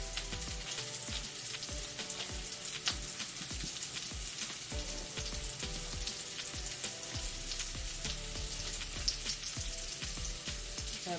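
Black bean burger patties sizzle steadily in a hot pan, with a dense, continuous frying crackle and occasional louder pops. No one speaks.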